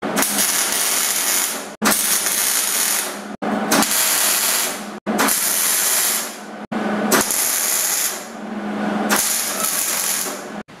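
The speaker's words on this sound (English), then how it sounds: "we're going to go ahead and tack weld it up" A cart frame's top shelf being tack welded: six or seven loud, crackling, hissing welding bursts, each lasting over a second, separated by abrupt short silences in a steady repeating rhythm.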